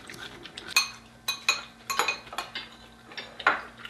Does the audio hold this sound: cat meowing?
no